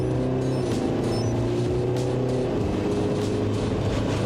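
A diesel Alfa Romeo SUV driving along, its steady low engine drone and road rumble continuous and close throughout, with no voices.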